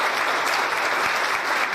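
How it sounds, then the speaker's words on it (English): A crowd applauding steadily, dense clapping that holds at an even loudness for the whole stretch. "Let us give a round of applause to Geoffrey."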